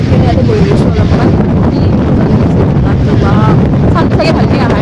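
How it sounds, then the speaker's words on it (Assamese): Sea breeze at Puri beach buffets the microphone in a loud, unbroken roar that fills the whole stretch, with faint voices barely showing through the rush. "বিচৰ ওচৰত ইমান ধুনীয়া বতাহ ৱাও মানে গোটেই মানুহটো লৰাই দিছে"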